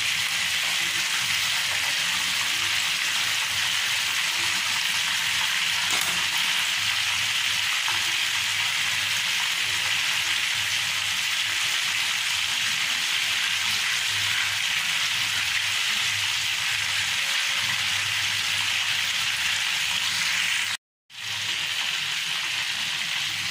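Seekh kebabs frying in oil in a pan, a steady, even hiss and sizzle that runs unbroken and fairly loud, with a brief drop near the end; no talking over it.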